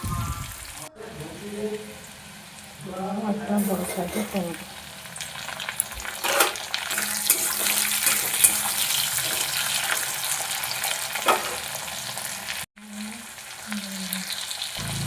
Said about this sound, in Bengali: পেঁয়াজ একটু ভাজা ভাজা হয়ে গেলে এর মধ্যে দিয়ে দেবো টমেটো কুচি